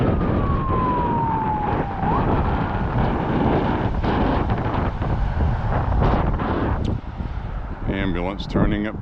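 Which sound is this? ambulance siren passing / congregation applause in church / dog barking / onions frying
ambulance siren passing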